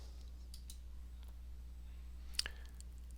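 A single sharp, quiet mouse click on a Next button in chart-reporting software, heard alone against a faint steady hum.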